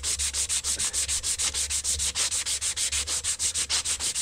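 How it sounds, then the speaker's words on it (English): Emery paper sanding around a brass hydraulic ram part, a steady rapid back-and-forth rasp of abrasive on metal repeating in even strokes, close and alone. "all I do is take some emery paper"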